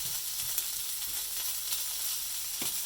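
Chicken and broccoli sizzle in a hot pan on the stove, a constant high hiss with occasional soft stirring knocks, fairly quiet and free of voices.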